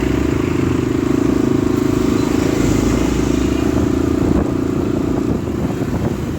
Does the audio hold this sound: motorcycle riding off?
yes